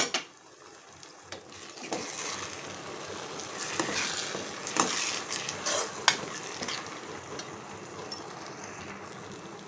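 Gongura and tomato paste fries in a pan in an egg curry cooking session, a steady close sizzle with scraping stir strokes and occasional utensil clinks, rising slightly in the middle with no talk.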